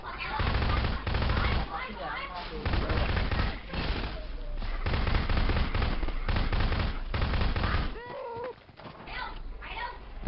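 Bursts of rapid gunfire crackle repeatedly, mixed with loud shouting voices and brief pauses between volleys.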